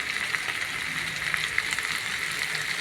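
Food fries in a lidded pan during home lunch cooking, giving a steady, even sizzle with faint crackles and pops throughout, moderately quiet and without any voices.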